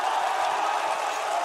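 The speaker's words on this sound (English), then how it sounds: "The crowd absolutely loving that one." An esports crowd at a Counter-Strike match roars in a steady, even wash of cheering noise, continuous and fairly far off with no distinct individual voices standing out.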